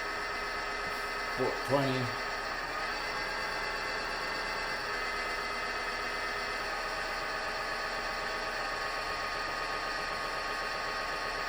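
A Powermatic PM2820EVS drill press with digital speed control runs its motor in a steady, even hum with a tonal whine throughout. A short spoken word comes early over the running machine.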